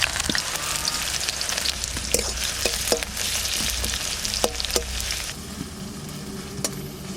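Onions hitting hot mustard oil in a wok, a loud close sizzle with sharp crackles and scraping stirs, easing to a gentler hiss toward the end.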